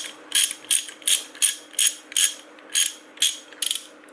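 A 1/2-inch socket wrench ratchet from a 24-piece socket set clicks in about ten quick, crisp bursts, close up and distinct with no voices.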